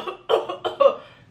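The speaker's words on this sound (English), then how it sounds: "coughing, choking." A run of short, harsh coughs after smoking cannabis, four or five bursts close together, loud and near, with strained, choking breaths between them.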